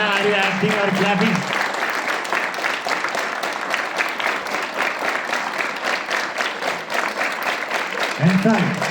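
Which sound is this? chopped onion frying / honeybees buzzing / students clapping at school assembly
students clapping at school assembly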